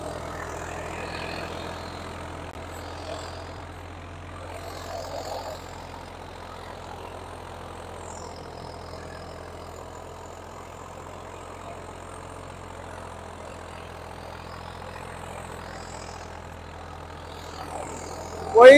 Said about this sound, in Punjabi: ਤੇਰਾਂ ਹਲਾਂ ਦੇ ਪੂਰੀ ਫੁੱਲ ਪਾਵਰ ਦਿਖਾ ਰਿਹਾ ਟਰੈਕਟਰ